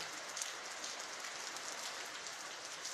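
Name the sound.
rain from typhoon Ulysses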